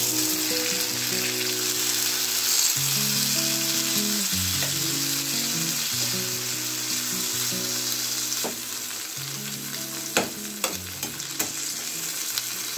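Five chopped tomatoes for butter chicken fry in a pan with a constant, crackling sizzle close up, later joined by a few sharp clinks and scrapes of stirring, with no talking.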